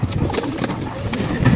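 Racing pigeons at a loft scuffling with each other, close cooing and soft wing flutters and scratchy movement under a man's speech, brief and fairly loud.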